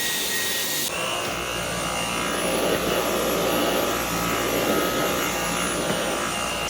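Dyson V12s Detect Slim cordless vacuum with a motorbar cleaner head running over a white carpet, a steady close whine and rushing airflow that starts abruptly and holds continuous throughout, with no talking.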